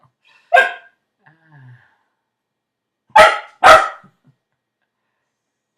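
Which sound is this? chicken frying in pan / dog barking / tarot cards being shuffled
dog barking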